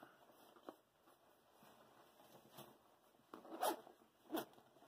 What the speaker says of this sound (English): It's got a zip pocket on the back of it.